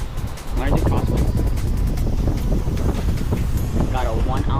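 Strong wind buffets the microphone in steady, loud gusts while casting with braided line and a 1-ounce lead, with someone talking over the roar throughout.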